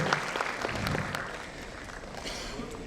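An audience in a hall applauding for the people of Thane at a local daily's fiftieth anniversary event, dense sustained clapping throughout, moderately loud and fairly close.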